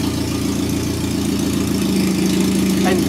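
A Caterham sports car engine idles steadily with a deep, even throb and rough low rumble, close and loud throughout, while its oil pressure is being checked.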